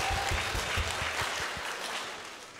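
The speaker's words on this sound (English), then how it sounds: "Let's give them a round of applause." Audience applause at a Q&A session welcoming two group leaders, a dense wash of clapping that holds steady and then slowly fades over a couple of seconds, with no one speaking over it.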